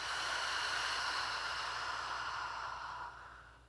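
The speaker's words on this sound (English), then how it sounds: "Inhale through the nose. Open mouth, exhale." A long, breathy exhale through an open mouth during a yoga cleansing breath, heard close and alone, gradually fading over a few seconds.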